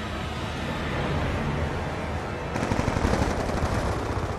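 Gunfire in the Black Ops 2 video game, a dense rattling burst of automatic shots that grows louder and harsher midway, continuous over game background noise with no talk.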